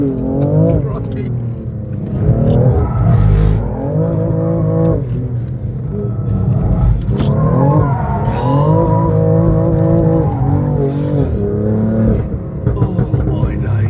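A car lapping a track flat out, loud engine revs repeatedly climbing in pitch through the gears with short drops between shifts, rumbling and aggressive throughout, with occasional tyre squeal and excited voices in the cabin.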